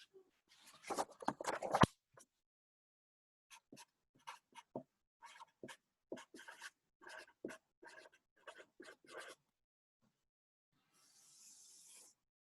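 Pen scratches across paper while a trial balance is written out, in short separate strokes with pauses and a soft hiss near the end, close and quiet.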